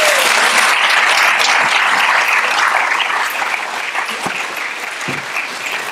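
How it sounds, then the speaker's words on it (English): Sustained applause from an audience at a hospital ribbon-cutting ceremony, a dense steady clatter of clapping that fades slightly toward the end, with no talk over it. "Let me ask you to stand, Mr. Baker, so you can receive a round of applause as well."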